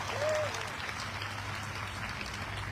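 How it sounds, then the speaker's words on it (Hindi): A crowd applauds at a Hindi motivational speech, sustained even clapping heard from a distance under a steady low hum, with no talking over it. "दूसरे के लिए ताली बजवाओ।"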